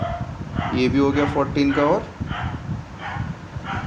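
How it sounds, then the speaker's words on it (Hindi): Dogs bark outdoors at night somewhere in the background, their yips and barks heard under someone talking steadily. "कुत्ते भौंक रहे हैं, आवाज़ आएंगी इनकी"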